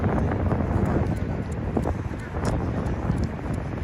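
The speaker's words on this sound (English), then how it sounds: "It's windy today, Will." Constant low wind rumbling and buffeting against the microphone on a Manhattan street, loud and unbroken throughout.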